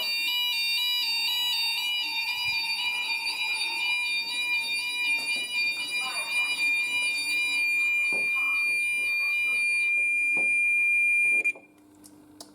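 A GENT conventional fire alarm system sounds during a test, with a loud, continuous multi-tone electronic alarm tone holding steady for about eleven seconds, then cutting off abruptly near the end.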